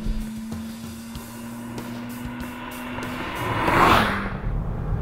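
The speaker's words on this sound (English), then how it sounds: "the biggest thing that makes this car unique is the rotary engine" Mazda RX-8 with its rotary engine, a low steady hum that grows into a loud rushing swell as the car sweeps past, then fades into a rumbling idle.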